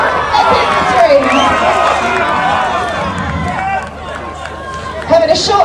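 Crowd cheering and shouting at a St Patrick's strongman challenge deadlift event, a continuous loud roar of many voices with whistles and yells that dips briefly and swells again near the end.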